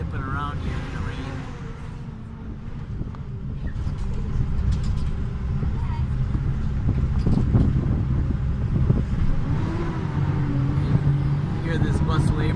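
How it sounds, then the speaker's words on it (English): A bus engine strains up a steep hill in the rain, a steady loud low rumble with road and wind noise that swells slightly midway, while a voice talks over it. "This bus is really laboring up the hill."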